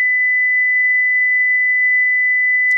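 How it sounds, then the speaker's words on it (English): A steady simulated 2 kHz sine tone holds one constant pitch for nearly three seconds, loud and alone, with a faint click near the end. "This is a source at some 2 kilohertz."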